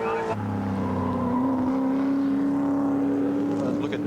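Historic touring cars race at Amaroo Park in 1986, with a loud engine holding a rising, sustained note as it passes near. Other motors hum underneath.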